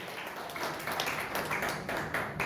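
Congregation clapping during Sunday worship at a GBI church, a soft, steady patter of many hands heard from a distance.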